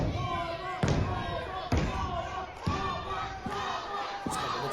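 Wrestling crowd at an OCW Delta Championship match rallying behind Kobra King, a loud continuous roar of cheers and shouts broken by several sharp thuds and slams, with commentary over it.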